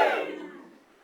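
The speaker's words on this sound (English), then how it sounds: "Gives a cheer if you're from England." A smaller, quieter cheer from English audience members at a comedy club, a brief crowd shout that dies away within a second.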